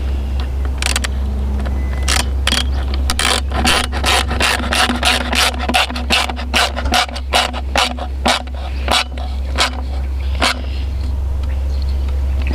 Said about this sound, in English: I'm going to tighten down this strap here